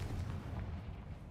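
A Confringo spell blast in the game Hogwarts Legacy: a brief, dense low booming explosion with rumbling body that fades slightly over a moment, heard alone.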